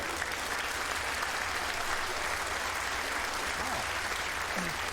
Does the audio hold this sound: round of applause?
yes